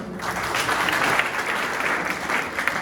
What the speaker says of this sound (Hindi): Very good, Tali बजाइए।